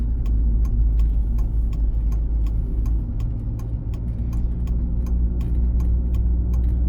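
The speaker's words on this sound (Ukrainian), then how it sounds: "зараз вже вмикаємо правий показчик повороту, бо ми будемо з'їжджати" Right turn signal in a car on a driving exam route through city streets, a regular faint ticking of the indicator over the low steady hum of the engine and road noise inside the cabin.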